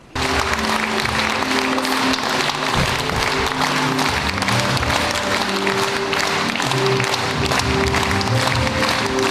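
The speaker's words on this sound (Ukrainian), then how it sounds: "рідна мати Валентина Васильівна, на честь якої на концерті звучать голосні оплески." Loud, sustained applause from a concert audience honoring a soldier's mother, steady and dense throughout, with music tones faintly underneath.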